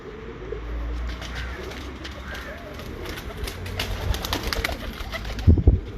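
Breeder pigeons coo in soft, low repeated murmurs close by, with some shuffling and a louder bump near the end.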